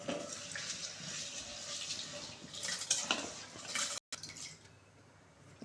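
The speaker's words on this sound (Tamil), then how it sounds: "இப்போ நம்ம அரிசி போடலாம்." Water bubbles and splashes steadily with faint clinks from a pot as rice is poured into boiling water, then a brief cutoff before the watery hiss resumes.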